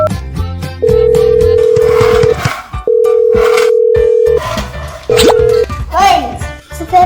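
A telephone dial tone comes through in three steady, sustained bursts, the last one short, during indoor play in a shower of colored balls, with a child and an adult talking over and between the tones.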